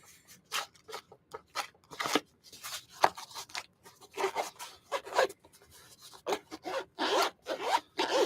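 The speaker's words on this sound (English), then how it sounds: "I have to like zip it and unzip it to make it actually zip." Zipper on a bag for a Hollyland Lark M1 wireless microphone, zipped and unzipped repeatedly in quick rasping strokes, some short and some drawn out, close and fairly loud with no talking.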